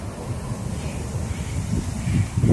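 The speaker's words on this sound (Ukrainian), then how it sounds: "Вітер подуває." Steady wind rumbles and gusts against the microphone, building slightly louder toward the end, with no voices.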